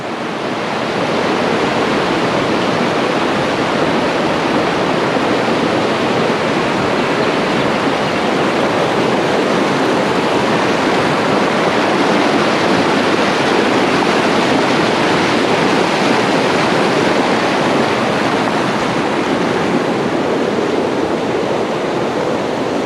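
Loud, continuous rushing water from a mountain stream on a walking trail in the Tom Groggin area, a steady broadband roar close by with no pauses.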